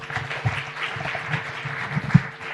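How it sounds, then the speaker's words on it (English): Audience at an academic annual conference applauding panelists, steady dense clapping from a sizable room lasting throughout, with a few louder claps standing out. "A round of applause for the panelists."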